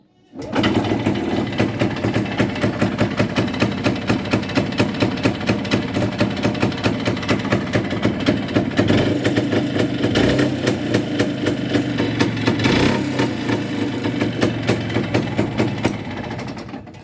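A rebuilt Muravei motor scooter engine with a new piston and pin idles steadily and evenly, a fast, even buzzing putter close by with no ticking, running alone for the whole stretch.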